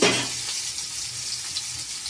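Dried fish pieces frying in hot oil in a pan, a steady close sizzle with soft crackles running throughout, alone and with no talk.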